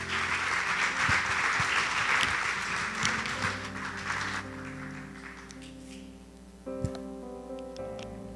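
A church congregation applauds loudly for several seconds, then the clapping thins and fades out, giving way to soft organ or keyboard chords that carry on alone to the end.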